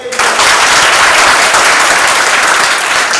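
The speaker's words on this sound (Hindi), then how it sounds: "खड़ा होइए, एक मर्तबा कस के ताली बजाइए।" A group of people, standing during a physical fitness test demonstration for Army, Navy, Air Force and NDA candidates, claps hands hard together in a loud, sustained burst of applause that fills the whole stretch.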